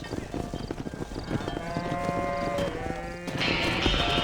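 A cattle herd on a ranch in Red Dead Redemption lows with drawn-out moos that overlap over trampling hooves and rustling movement.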